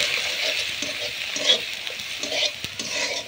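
Salt and turmeric being mixed into saag in a pan with desi ghee, onion and garlic, a continuous sizzle under irregular scraping and stirring strokes, close and fairly loud.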